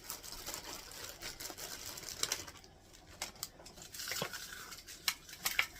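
Cooked bacon is broken up in a bowl with irregular clinks, taps and crinkly crunches. The sounds come in scattered bursts, with quieter stretches between them.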